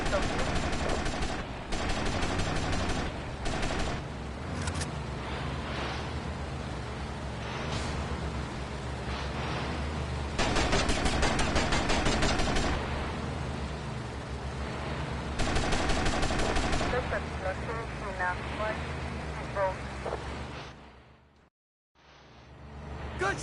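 Rapid gunfire in GTA Vice City on PS5, with sustained bursts of automatic fire and scattered single shots running almost continuously, loud and close, with brief lulls and a short silent gap near the end.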